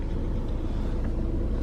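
Steady low engine and road rumble from inside a car being driven, a continuous near drone with no breaks.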